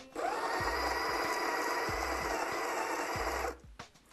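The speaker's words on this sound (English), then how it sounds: "press our start button to start grinding" A Sage Smart Grinder Pro grinds coffee straight into a portafilter. The whirring motor runs loud and steady for about three seconds, with a few soft low knocks underneath, then cuts off abruptly.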